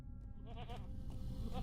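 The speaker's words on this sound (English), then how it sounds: "Goats." Goats bleating in a fantasy video game, several quavering bleats in quick succession over a low rumbling ambient bed, moderately close, with no talking.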